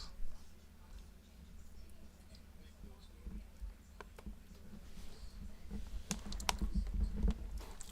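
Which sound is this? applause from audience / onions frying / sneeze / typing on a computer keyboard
typing on a computer keyboard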